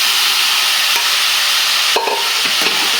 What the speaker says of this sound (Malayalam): അന്നേരം തന്നെ ഇളക്കുക. നമ്മുടെ പച്ചക്കറി ഇട്ട് കൊടുക്കുക.